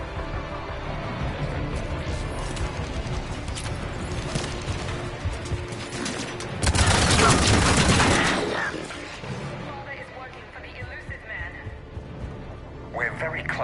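Gunfire in a Mass Effect Legendary Edition battle on Rannoch, a sustained loud burst of shots and crashes peaking midway, with steady game noise and voices around it.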